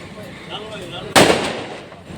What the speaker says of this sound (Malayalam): ദീപാവലി ആയതുകൊണ്ട് ഇവിടെ ഇടക്കിടക്ക് പടക്കം പൊട്ടിക്കുന്നുണ്ട്